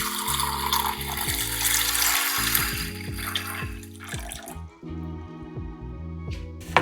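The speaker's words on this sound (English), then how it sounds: "we're just going to fill the bowl with water" Tap water pours steadily into a bowl of red beans, a continuous splashing gush with the pitch rising as the bowl fills, then easing to trickles and drips near the end.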